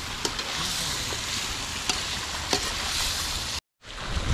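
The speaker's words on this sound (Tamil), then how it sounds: "வெங்காயம் நல்லா வதங்கிடுச்சு இப்போ எண்ணெயில் பொறிச்சு வச்சு சிக்கனை போட்டு அதை இது பண்ணிக்கலாம்" Chicken that was fried earlier sizzles in oil as it is stir-fried with sautéed onion, ginger and garlic for village-style chicken manchurian. The crackling is steady and close throughout, with a short silent gap near the end.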